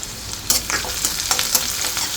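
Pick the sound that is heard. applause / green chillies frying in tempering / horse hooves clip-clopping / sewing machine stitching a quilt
green chillies frying in tempering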